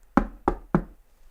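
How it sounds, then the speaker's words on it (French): Three sharp, evenly spaced knocks on a door ring out close and loud, with nothing else around them. "ça cogne à la porte"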